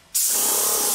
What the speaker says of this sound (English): when I spray from here, it should come out as smooth and as quiet as can be